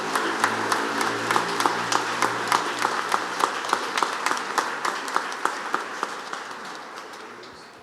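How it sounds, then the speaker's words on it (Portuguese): A church congregation at Mass claps for the people celebrating birthdays. The applause is sustained and fairly close, with sharp individual claps standing out in a regular rhythm before it slowly thins and fades. "Vamos aplaudir os aniversariantes."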